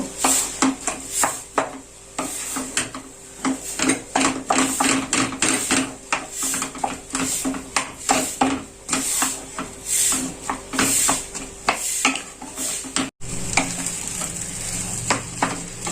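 Beetroot and carrot being stirred in a frying pan, a continuous sizzle cut by rapid repeated scrapes and knocks of a utensil against the pan, close and busy, with no voices.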